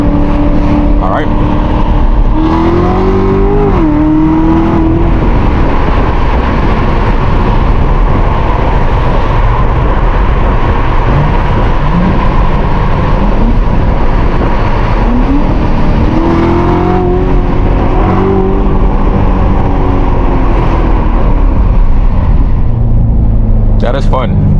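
Loud interior roar of a car accelerating hard through repeated pulls, engine pitch climbing through gears with shifts, constant close road and wind noise throughout.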